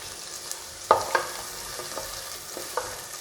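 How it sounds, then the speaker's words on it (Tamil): Peas, carrots and beans sautéing in a pan for rava vegetable pongal, with soft steady sizzling broken by a few sharp scrapes and clinks of a spoon stirring, close and fairly quiet, no voices. "இப்போ இது கொஞ்சம் வேகிற அளவுக்கு வதங்கிக்கலாம்."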